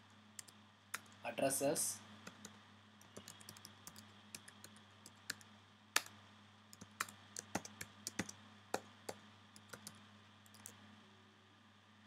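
Code is typed on a computer keyboard in irregular, fairly quiet bursts of clicks over a long stretch, with someone talking briefly at the start.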